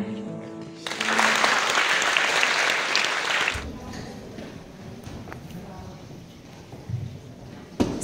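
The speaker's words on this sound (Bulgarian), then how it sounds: "Аплодисменти за прекрасните ученици от основно училище Кашикаджибека." Audience applause for primary school students after a poetry recital, loud, dense clapping from a full room that swells in and then cuts off abruptly partway through, leaving quieter room noise and a few stray sounds.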